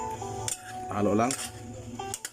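A metal spoon scrapes and clinks against a cooking pot while sari-sari mixed vegetables are stirred, a few close clanks and a brief rattling scrape over a low background hum.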